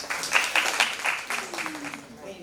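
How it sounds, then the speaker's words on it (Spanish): A small audience at a drama talk claps for a speaker, a brief burst of scattered applause that fades quickly, with a voice starting to speak under the tail end. "Un aplauso para ella, por favor."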